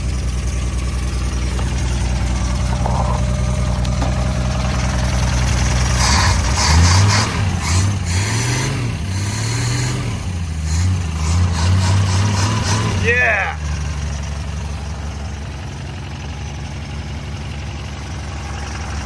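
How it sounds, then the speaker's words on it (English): A Ford Falcon engine idles steadily after sitting unused for 46 years, a low rumbling drone that swells briefly mid-clip as the engine revs, with an excited shout and voices over it. "Idling on its own, purring like a kitten."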